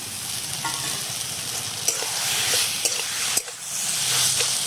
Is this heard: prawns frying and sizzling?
yes